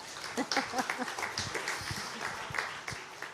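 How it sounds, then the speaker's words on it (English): A few scattered claps and a murmur of voices come from the audience at a talent leaders awards event. The applause is brief and fairly faint and mixes with talk. "A big round of applause for that."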